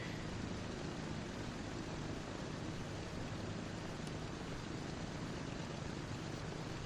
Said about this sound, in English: As the plane's just coming into land there.